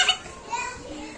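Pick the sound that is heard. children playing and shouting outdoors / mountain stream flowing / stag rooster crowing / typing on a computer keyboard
children playing and shouting outdoors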